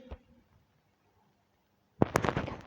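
After a short quiet pause, a sharp firecracker bang erupts, followed by a quick burst of crackling pops close by.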